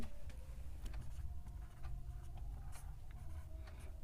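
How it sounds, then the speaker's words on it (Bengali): Quiet scratching of a pen on paper as geometry steps are written out during a maths lesson on circle tangents, with soft irregular strokes and no talking. "তো আমরা লিখছি"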